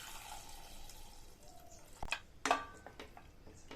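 Water goes into a cooking pot holding tomatoes, garlic, turmeric and sesame oil in a home kitchen, heard as a few brief, soft splashes and drips over a quiet background.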